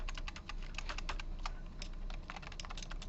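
Keys clatter on a computer keyboard in a rapid, uneven run of close clicks, heard alone over a steady low room hum with no voices.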